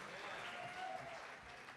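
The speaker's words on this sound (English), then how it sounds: "Clap it up for them." An audience at a community talent show applauds the performers, giving a steady, faint wash of clapping from a crowd heard at a distance, with voices mixed in.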